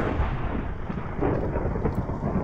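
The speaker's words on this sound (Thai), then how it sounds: "สียงดังมากเลยอะเสียงฟ้าผ่า" Thunder rolls during a rainstorm in the Minecraft game: a loud, continuous, deep rumble over rain with no talking.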